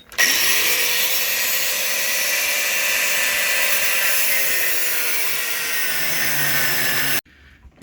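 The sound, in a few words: angle grinder cutting seized tow bar nut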